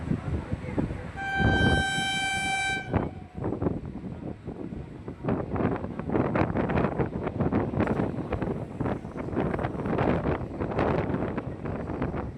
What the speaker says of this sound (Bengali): এই যে দেখুন আসছে লোকাল ট্রেনটি।